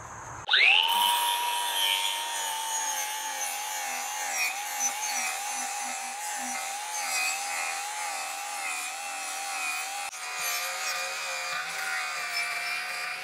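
A DeWalt 20-volt cordless mini grinder with a 4.5-inch 80 grit flap disc sands the metal edge of a tractor brush guard, a steady close whine with wavering pitch starting after half a second and running unbroken, no talk.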